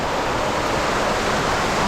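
Water pours from a cave ceiling into a waterfall, a dense, continuous rushing roar that stays loud and unbroken from start to finish.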